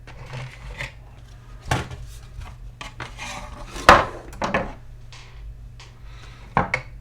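Small metal screws being handled and sorted into small, medium and large sizes, giving scattered light clinks and rattles with a few sharper clacks, close by and with no one speaking.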